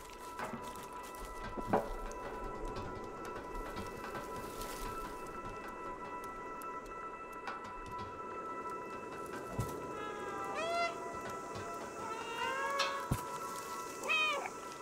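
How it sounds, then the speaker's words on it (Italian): Cat meows from the video game Stray, several short upward calls near the end over a steady ambient music bed with background hum. "Possiamo miagolare a comando."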